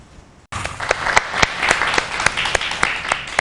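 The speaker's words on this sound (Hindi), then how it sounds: "हमारे सेट पे हर शख्स इस वक्त सैयदा ओजे फातिमा के लिए तालियां बजा रहा है।" A television studio audience on a morning talk show bursts into applause for a guest after a brief quiet, with steady clapping and sharp individual claps standing out close by.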